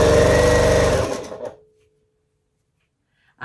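A sewing machine stitches a seam joining triangle scrap pieces to a quilt background, running loud and steady with a rapid needle rhythm for about a second and a half, then stopping into silence.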